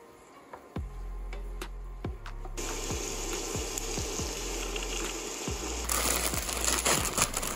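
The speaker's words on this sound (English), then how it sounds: "Keep that cooking until the onions are clear and the celery is softened." Chopped onions and celery fry steadily in a pan with a continuous bright sizzle, punctuated by sharp clicks and scrapes of stirring that grow a little louder toward the end.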